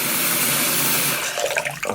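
Water rushes steadily from a newly installed bathroom sink faucet, a loud, close hiss that eases and turns more uneven in its final moments.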